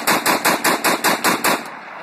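An AK-47 rifle is emptied in rapid fire, eight loud sharp shots in an even, quick rhythm over under two seconds, with no talking and a short fade after the last round.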